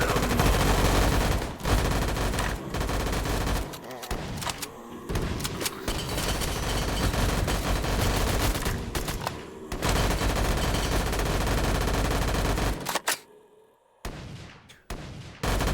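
Loud, dense gunfire from a pistol and a P90 in a VRChat video game rattles in rapid automatic bursts broken by short gaps, with a clear pause near the end, and no talk.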